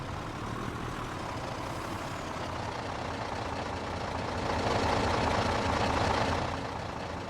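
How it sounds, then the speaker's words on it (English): A loud heavy truck engine in Farming Simulator 22, rumbling steadily at close range throughout, swelling louder for a couple of seconds before settling back to a constant drone. "Loud truck over there."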